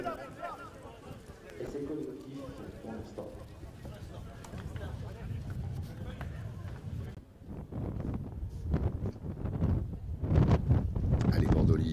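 Gusting wind buffets the microphone at an outdoor rugby match, a continuous low rumbling roar that swells and surges, heard under a commentator's ongoing talk.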